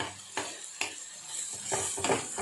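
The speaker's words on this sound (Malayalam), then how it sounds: "ഇപ്പോൾ നമ്മുടെ തക്കാളിയും സവാളയും കൂടി വഴറ്റിക്കൊണ്ടിരിക്കണതാണ്" Tomato and onion sautéing in a pan for a prawn roast, giving a soft continuous sizzle with a few louder scraping stirs of a spoon against the pan, close and steady with no talk.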